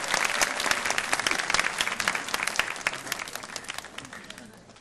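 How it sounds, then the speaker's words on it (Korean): A room full of hands claps steadily and densely for about five seconds, tapering slightly toward the end, as a church youth worship service crowd applauds during a gift presentation. "박수 한번 부탁드립니다."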